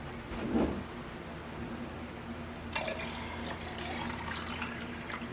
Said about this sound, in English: I'm going to go dump this out real quick